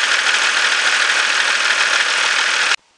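A BMW 525 tds E39 diesel engine idles at close range, a loud steady clatter and rumble that holds evenly for nearly three seconds, then cuts off abruptly into near silence.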